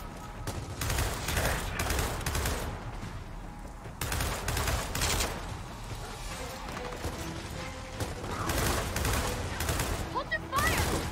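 Dense bursts of gunfire and fusillades from Gears of War 4 gameplay, loud and repeated in clusters across the whole stretch, with players talking over the shooting.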